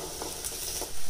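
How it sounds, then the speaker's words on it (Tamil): Chopped vegetables with ginger and coriander leaves sauté in a pan for wheat rava kichadi, giving a soft, steady sizzle with a few faint stirring scrapes, close and fairly quiet. "இப்போ காய் வதங்கிட்டு இருக்கும்போதே கிச்சடிக்கு தேவையான உப்பு சேர்த்துடலாங்க."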